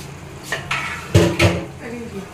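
A metal pot of rice set down on a home kitchen stove, several clanks and knocks of cookware, two louder bumps near the middle, with faint kitchen noise around them.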